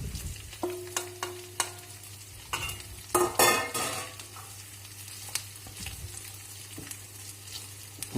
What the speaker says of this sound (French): On va mettre nos oignons et nos poireaux à suer